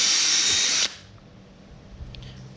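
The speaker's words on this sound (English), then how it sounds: "Pre-drill, make sure your drill motor is straight up and down in comparison to the wood you're working with." A power drill pre-drilling holes in wood, a loud high whirring burst lasting under a second, then cutting off to quiet room noise with a faint knock.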